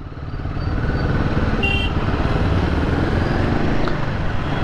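A Royal Enfield Himalayan 450 motorcycle being ridden on real roads with the engine held just above 2000 rpm, giving a steady, loud, close rumble that swells in the first second and then stays even throughout.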